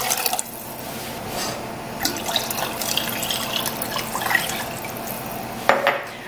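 Water and chicken broth pour into a small, deep-sided pan, a steady close-up splashing and trickling stream lasting several seconds with a brief louder gush near the end.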